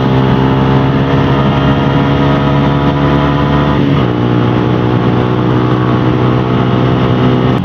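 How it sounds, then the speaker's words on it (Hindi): A Suzuki Gixxer SF 155 with a single-cylinder air-cooled engine and an Akrapovic exhaust runs steadily, a loud, close, continuous engine drone with a slight shift in tone midway. "एक्रापोविच के साथ में काफी स्वीट सा साउंड ये बाइक प्रोड्यूस करती है"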